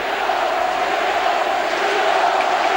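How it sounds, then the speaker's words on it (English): A rugby league crowd at a 2003 Bradford v Leeds match roars after a try, a dense, loud, unbroken wall of cheering that holds at full strength throughout. "The crowd have gone bananas here, and rightly so."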